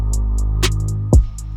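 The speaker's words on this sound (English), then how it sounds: "that little alien effect pitch down with the drums and the bass sound like this" A trap soul beat made without samples: a deep sustained bass hum under crisp, evenly spaced hi-hat ticks, one sharp snare hit, then a low pitched-down alien effect sweeping downward, loud and close.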